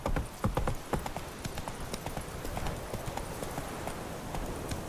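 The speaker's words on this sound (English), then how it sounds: "Giddy up. Whoa! Not so fast, Roach." Horse hooves clip-clop in a rhythmic trot while riding in The Witcher 3 video game, a cluster of sharp close hoofbeats at first settling into a steady, softer patter.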